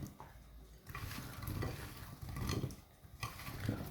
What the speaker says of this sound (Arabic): ناخذ زيت الزيتون، ناخذ ملون التحميره والملح، نخلط الكل جيدا